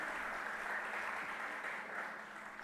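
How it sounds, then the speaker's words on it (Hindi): An audience at a Jain religious gathering applauds as one crowd, a faint and even rush of clapping heard from a distance that fades slightly toward the end. "तालियां, तालियां।"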